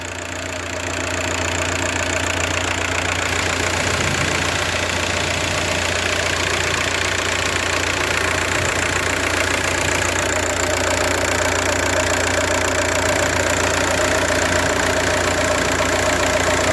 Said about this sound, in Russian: Ну вот, это дизель.